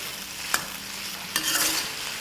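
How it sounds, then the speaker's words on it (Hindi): Steak stir-frying over a high flame, a steady hiss of sizzling with two quick utensil clacks and scrapes as the meat is tossed, close and with no voices. "तो स्टर फ्राइड हमें करना शुरू कर देना है। फ्लेम हमारी हाई है।"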